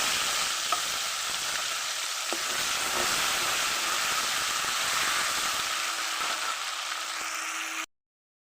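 Spice mix with fried cumin and bay leaves in hot mustard oil hisses loudly and steadily in a pan, with faint clicks of stirring. It continues close and unbroken before stopping abruptly, with no talk.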